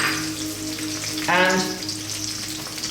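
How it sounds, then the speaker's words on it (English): Chili, onions and garlic sautéing in coconut oil over medium heat, a steady close sizzle with a brief louder burst midway as ingredients hit the pan; a voice speaks a single word. "We're going to saute this on a medium heat for like 2 to 3 minutes only."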